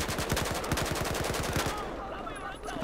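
Rapid automatic assault rifle fire in Battlefield 4, a steady rhythmic burst of loud close shots for about two seconds before it stops and fades into ambient game noise.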